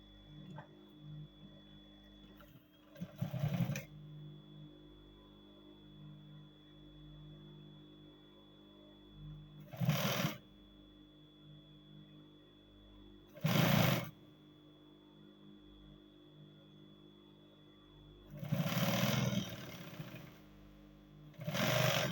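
A sewing machine top stitching cargo pants makes four brief, separate bursts about a second long, spaced several seconds apart against a faint, quiet background.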